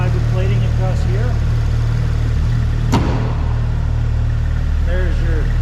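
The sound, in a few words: 2015 Porsche 911 GT3 dual exhaust engine running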